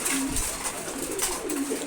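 A flock of pigeons on a farm coos while eating, repeated low throaty calls overlapping in a continuous close chorus with no voices.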